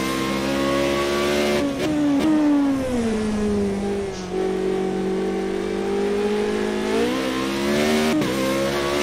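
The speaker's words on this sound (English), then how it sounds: "Accelerating again, braking." Formula Renault race car in a racing video game accelerates hard around Brands Hatch, its engine note rising and falling through gear shifts with a steady, loud whine that persists throughout.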